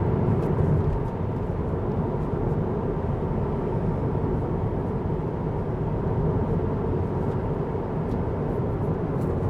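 A Tesla Model 3 on 18-inch aero wheels and Hankook Ventus iON evo tyres drives on tarmac near 60 mph, heard from inside as a steady broadband road and tyre roar with no talk.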